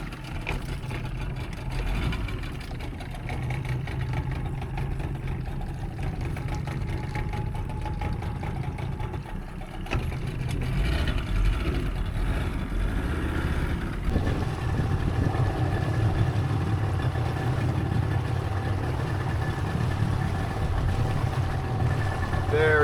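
A 2-stroke outboard on a 15ft Boston Whaler idles at low tide near Exuma, Bahamas, a steady low rumble running throughout and growing slightly louder midway, with voices talking over it.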